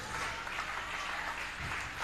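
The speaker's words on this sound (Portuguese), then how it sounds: "Você pode aplaudir a Jesus por esta palavra?" A church congregation applauds during a sermon, a dense steady wash of many hands clapping together, fairly quiet and continuous with no talking over it.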